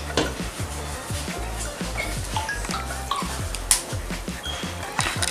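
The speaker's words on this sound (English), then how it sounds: "now I'm about to add my tin tomatoes to it" Tinned tomatoes go into a pot for Ghanaian light soup, with a sizzle and repeated stirring scrapes and taps of a spoon against the pot, close and busy.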